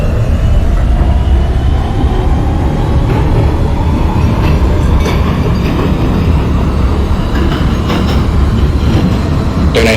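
A simulated NYC Subway R160 train on the E line heads toward Bay Ridge-95 St, its steady loud rumble of running wheels and motors carrying on throughout with faint rail clatter and a brief squeal near the end.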